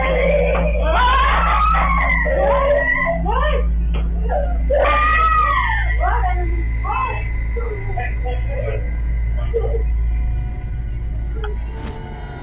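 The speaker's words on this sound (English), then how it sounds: "this footage of his daughter having a panic attack in the middle of the night" A young girl screams and wails in the night during a panic attack in her bedroom, with repeated rising and falling distressed cries over a steady low electrical hum.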